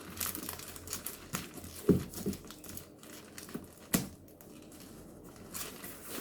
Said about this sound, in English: put it in the middle and tape it in the middle